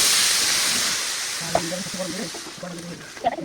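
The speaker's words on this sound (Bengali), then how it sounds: "চালটা ভাজা হয়ে গেছে আমার, এখন আমি গরম করে রাখা জল দিয়ে দেব।" Hot water poured into a pot of fried rice for pulao gives a steady broad hiss that fades slowly, with a voice starting to talk over the tail.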